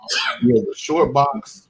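A single sharp sneeze from someone nearby breaks in at the start, followed by someone talking.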